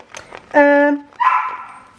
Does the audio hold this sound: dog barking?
yes